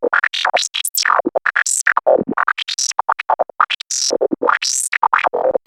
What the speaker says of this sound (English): the first filter, as I said, bandpass 24 dB per octave, and I want to modulate the cutoff